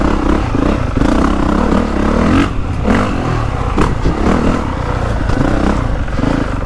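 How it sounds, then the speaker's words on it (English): Honda CRF450R 450 motocross bike engine revving continuously and loud up close, with throttle swells and mechanical clatter running throughout. "this is a full-on 450 motorbike"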